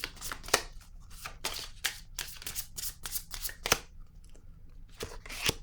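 Tarot cards are shuffled close by in rapid bursts of crisp riffling and sliding with brief pauses, and there is no talking.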